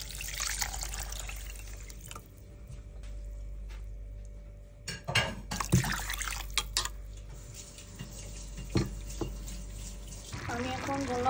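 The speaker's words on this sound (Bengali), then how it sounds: "এখন পরিমাণ মতো পানি।" Water pours and trickles into soaked rice in a bowl, with splashes and scattered clatters of a pot or utensil, ending in a steadier gush.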